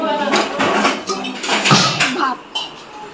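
Dishes and cutlery clink and scrape as rice is served at a family home meal in Bengal, several quick close clatters over people talking nearby.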